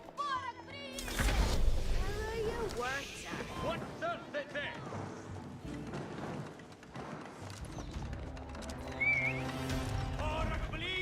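Cavalry scouts on horseback clash in an Age of Empires 4 match: repeated horse whinnies and neighs with clip-clopping hooves and scattered battle clatter, under a commentator's continuous talk.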